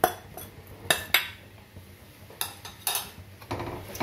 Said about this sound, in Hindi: ये जो थोड़े से चने हमने बाउल में रखे हैं, इनको हम इस मैशर से मैश करके फिर डालेंगे